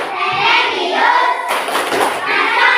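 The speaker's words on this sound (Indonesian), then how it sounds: "Sekarang kita tepuk PPK dulu ya." A classroom group performs the PPK rhythmic clap, a burst of many hands striking together in a patterned beat amid a loud, busy room noise of voices.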